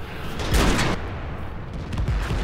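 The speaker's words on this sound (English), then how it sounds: "Ooh, ammo rack. That was a neat explosion effect." An ammo rack detonation in World of Tanks gives a deep, broad boom that swells quickly, then settles into a low rumbling roar of continuing battle noise.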